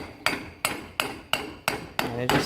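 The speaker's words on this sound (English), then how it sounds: "if you can't get it all the way in just by hand, just use a hammer" Six sharp hammer taps, evenly spaced about every third of a second, seating an oiled urethane mount collar during a Holset turbo build on a 1997 GST, each a crisp close metallic knock with brief ring.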